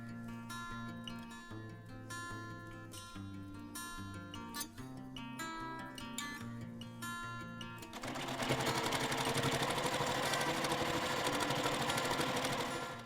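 A sewing machine stitches quilt side pieces, its steady whirring motor running continuously and fairly close for several seconds while music plays underneath before and during the stitching.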